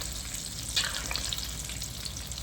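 Eggs frying in a pan for an egg crown cutlet, a steady close sizzle with a few brighter pops and crackles, no talking.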